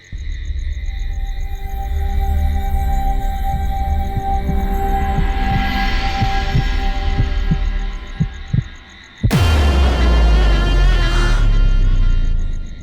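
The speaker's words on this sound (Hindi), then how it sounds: "माँ, माँ, मैं आपकी धड़कनें सुन सकती हूँ" A dramatic heartbeat sound effect thumps in a steady, quickening rhythm beneath a humming musical drone, then gives way to a loud swelling burst of sound.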